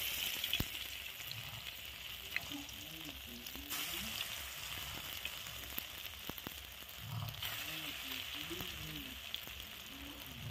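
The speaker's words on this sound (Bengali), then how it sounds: "তেলটা গরম হয়ে যাওয়ার পর এর মধ্যে গোল গোল শেপ করে সমস্ত বড়াগুলো দিয়ে দেবো" Round banana flower fritters fry in hot oil over a low flame, giving a soft, even sizzle with occasional scraping and tapping of a utensil, fairly quiet and close.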